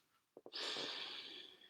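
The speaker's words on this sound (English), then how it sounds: "So you're breathing like this." A person demonstrates a double-inhale breathing technique: two quick, close sniffs, then a long, steady, airy breath that fades slowly, heard up close with no talking.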